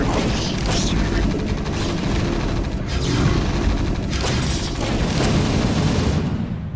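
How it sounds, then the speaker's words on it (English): An explosion in the StarCraft video game is a dense, continuous roar of booming blasts and rumbling low-end that fills the whole stretch at steady loudness. "be careful with the explosion here."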